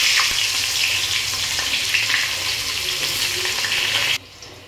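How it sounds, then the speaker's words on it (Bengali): Cut eggplant pieces fry in hot oil left over from frying fish, giving a loud, steady, close sizzle that cuts off abruptly near the end. "এবার আমি মাছ ভাজা যে তেল আছে তার মধ্যে আমি কেটে রাখা বেগুনগুলোকে ভেজে নেব।"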